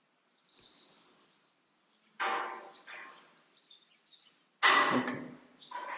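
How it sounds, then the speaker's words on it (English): Anxious swallows inside a barn give three loud, harsh bursts of calling, separated by brief silences, the last burst the loudest and closest. "we're finding swallows all over here"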